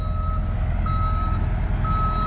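A truck backing up on a cold residential cul-de-sac sounds repeated high reversal beeps at a steady slow rhythm over a loud continuous diesel engine rumble, close and prominent.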